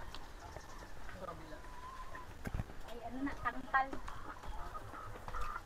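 Chickens at a farm poultry house cluck and call faintly in the background while people talk over them outdoors.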